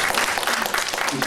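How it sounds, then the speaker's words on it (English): Audience applause at a talk on spelling and dyslexia, a short burst of dense, even clapping throughout. "Big round of applause."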